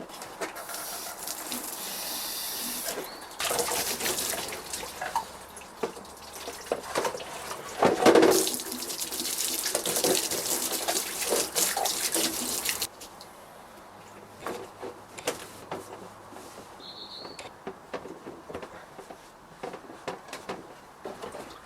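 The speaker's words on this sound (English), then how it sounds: "now it's time to hose it down" Water from a hose sprays and splashes over a Honda S2000 rocker cover in loud hissing bursts for several seconds, then drops to quieter intermittent trickling and dripping with a few clunks.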